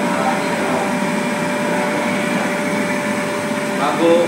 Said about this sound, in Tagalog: gumagana na yung heater natin. Inverter na heater.